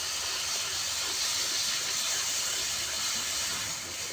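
Garlic paste sizzling in a hot pan for a light mutton curry, a loud, steady, continuous hiss held close throughout with no break and no talk.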